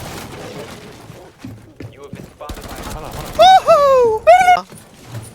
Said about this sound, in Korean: 총소리 좀들 총소리 좀들